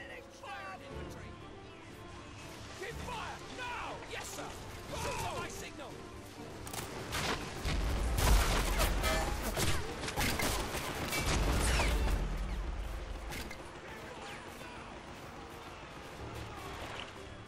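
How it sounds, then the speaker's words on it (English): Artillery strike and gunfire in Men of War: Assault Squad, British versus German forces at Arnhem, with rolling heavy booms and dense bursts of firing building to a loud peak midway, then easing back, as voices speak through the battle. "Yes, artillery strike incoming."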